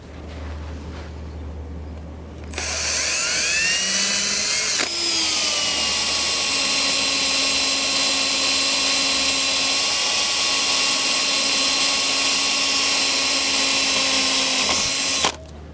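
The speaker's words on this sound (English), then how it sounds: "I'm going to drill 2 holes in here, I believe" A power drill whines steadily at a high pitch for a long stretch after a short quiet start, drilling holes to mount a camera bracket, then cuts off near the end.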